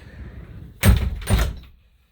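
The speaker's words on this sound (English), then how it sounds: "So there's the shower door." An RV shower door slides and thuds shut twice in quick succession inside a parked rig, two close, loud knocks with a brief rattle trailing off into quiet.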